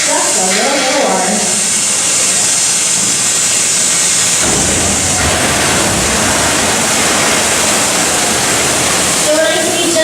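Loud, steady roar of about 1,000 gallons of water dumping from a large tank down a chute on a theme park backlot tour, continuous and close, with a faint voice briefly audible near the start.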